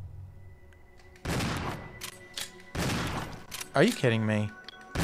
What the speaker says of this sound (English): I wasted a shotgun shell there